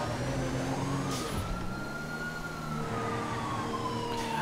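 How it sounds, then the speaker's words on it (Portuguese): Police sirens in GTA V wail in slow rising and falling tones on a residential dead-end street, set against steady traffic and engine rumble, with no one speaking. "Ó, já dá pra ouvir sirenes."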